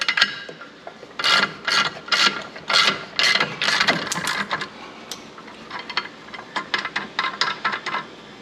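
Ratchet loosening a bolt on a Can-Am Maverick X3 during drive belt work, a series of quick clicking bursts in irregular strokes, close and fairly quiet.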